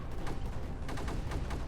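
Sniper units in the strategy game Creeper World 4 fire in a quick string of sharp, repeated shots that overlap into a steady rattling volley, moderately loud with no voices over it.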